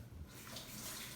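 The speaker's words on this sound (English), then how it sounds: "I'm just going to wash that in super hot water" Hot water runs steadily from a tap while something is rinsed clean after cutting bear meat for jerky, a continuous close splashing wash with no talk.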